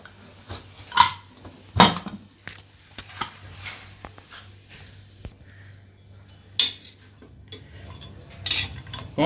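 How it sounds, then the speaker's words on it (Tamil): Handling a metal pressure cooker of cooked beef as it is opened: several sharp metallic clanks and clinks of the lid and pot at irregular intervals, close and loud, over a low steady hum. "இப்போ நம்ம திறந்து பார்த்துடலாம்"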